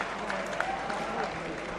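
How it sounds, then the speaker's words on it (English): A crowd at a boxing event applauds the fighters, a steady roar of clapping and crowd noise mixed with a voice talking over it throughout. "Great round of applause for both fighters."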